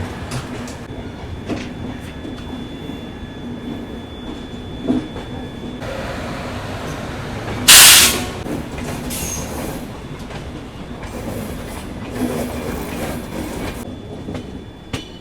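The Sealdah Rajdhani Express train rumbles steadily along the rails past Ghaziabad Junction, heard from a 3rd AC coach, with rhythmic clicking and rattling, a sharp hiss or squeal bursting out briefly midway.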